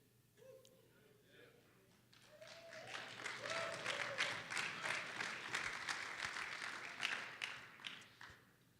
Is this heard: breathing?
no